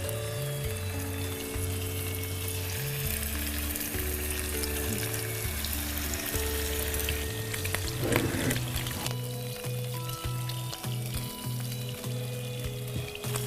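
Rui fish pieces fry in hot oil in a pan, giving a steady, dense sizzle that runs the whole time. A brief clatter comes partway through, and a low hum underlies it.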